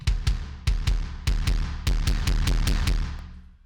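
A metalcore kick drum run through heavily cranked built-in Pro Tools distortion hits hard in an irregular pattern of about a dozen booming, gritty thuds, loud and alone, with a long decaying tail at the end.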